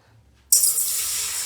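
Water poured into a hot pan to boil for millet porridge, a sudden steady hissing pour starting after a brief quiet moment and continuing strongly to the end, close and loud with no talking.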